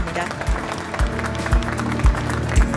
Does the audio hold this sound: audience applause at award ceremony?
yes